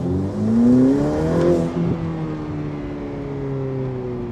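A Ferrari F8 Tributo engine revs and accelerates on a residential street, its tone climbing in a loud, sustained whine that shifts pitch around a gear change midway, then settles into a steady drone.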